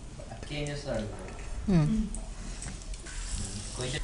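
Onions dropped into hot oil in a home-style cooking setup, giving a steady sizzling and frying hiss that runs under continuous conversation.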